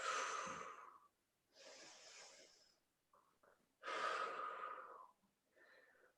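Slow breathing during a full-body stretching exercise, four deep airy breaths in and out with short pauses between them, close and soft, with a faint small sound in one gap.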